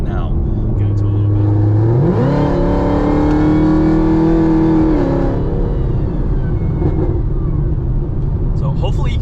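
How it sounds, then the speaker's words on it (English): A cammed Chevrolet Camaro ZL1 1LE fitted with an MPI supercharger lid revs up. A rising supercharger whine climbs in pitch with the engine, holds for a few seconds over a deep rumble, then drops away as the revs fall. "You can hear the whine now."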